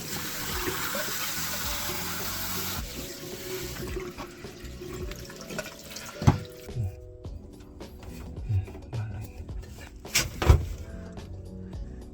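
Water sprays in every direction from a leaking pipe with a broken thread. It gives a continuous loud splashing rush that grows sparser and quieter, broken by a few sharp knocks and clatters.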